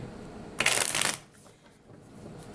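Tarot cards riffle in a quick, crisp burst lasting about half a second, then fall to quiet handling noise.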